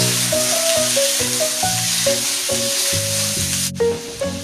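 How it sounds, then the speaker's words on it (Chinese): Pig blood stir-fried in a wok with chillies sizzles loudly up close under steady music, with a sharp clank near the end as the spatula strikes the pan. "倒入猪血翻炒一会儿"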